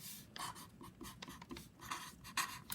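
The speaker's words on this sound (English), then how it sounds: "you can just write the word alien on the top of each paper" Pen or pencil writing a word across paper, soft scratchy strokes in short bursts with brief pauses, quiet and close.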